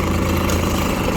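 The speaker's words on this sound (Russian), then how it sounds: "Такой мини-трактор Kubota GB200." A Kubota GB200 mini tractor's engine runs at a steady idle nearby, a constant low mechanical rumble with no voices.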